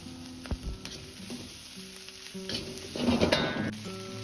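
Pork intestines dry-fried with seasonings in a wok give a steady close sizzle. Scraping stir strokes build to a louder, denser frying burst near the end.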